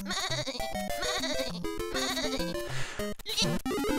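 Rapid, bright electronic bleating from a sheep in a Mario video game, loud and nearly continuous with a busy backing of music and effects.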